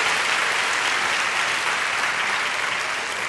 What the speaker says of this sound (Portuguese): Quer dar um aplauso? Vamos lá.